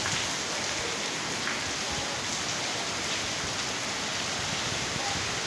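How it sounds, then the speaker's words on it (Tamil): Heavy rain pours steadily on a morning in Chennai, a dense, unbroken hiss of drops striking surfaces that stays loud and even throughout, with no voices. "இந்த மழை நல்லா பெய்யுது பாருங்கள்"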